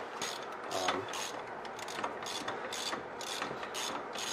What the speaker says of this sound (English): Using an 18 mil socket on that.